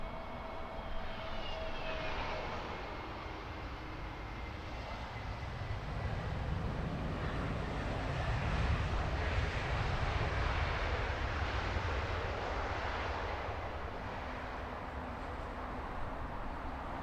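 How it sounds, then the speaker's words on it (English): An Aer Lingus airliner in from Dublin lands at Heathrow, its engines a steady broad roar with uneven throttle swells that build toward the middle, heard from a distance under wind. "Some odd throttle noises from that Aer Lingus just before touchdown. Sounded like it was going to power up again."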